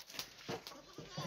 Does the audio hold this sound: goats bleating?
yes